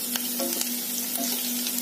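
Green chilies sautéing in a pan for macaroni, a continuous soft sizzle and crackle with a few stirring scrapes, close and moderately quiet, with no talking.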